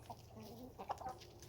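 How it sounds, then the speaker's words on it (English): Two-year-old laying hens give a few soft, low clucks, faint and close, in a quiet backyard setting. "These chickens are 2 years old now"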